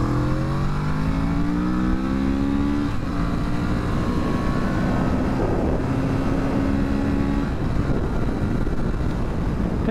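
A 2022 Kawasaki Z650 RS motorcycle engine revs hard and continuously, its pitch climbing then holding high, loud and close with a rough, buzzing tone.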